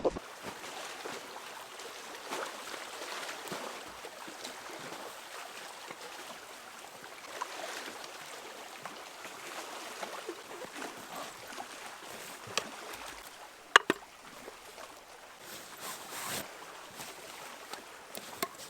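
Gentle water lapping at the shore of a small island, a soft continuous wash with faint wind, quiet and close, with an occasional small knock or splash.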